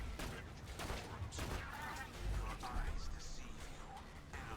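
Rapid gunfire from the Iron gun in a video game, heard as dense bursts of shots alongside game action and mechanical clatter, all under steady game noise.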